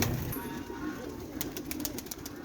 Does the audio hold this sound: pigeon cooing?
yes